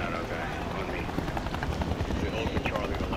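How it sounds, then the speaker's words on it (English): A helicopter roars close by in Modern Warfare III, its rotor beating in a loud, steady, slightly pulsing thrum while voices talk over it. "Hilo chopper! Get to the chopper!"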